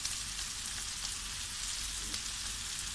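Minced meat keema fries in a pan for an achari masala keema dish, producing a steady, close, crackling sizzle that stays even throughout with no talking.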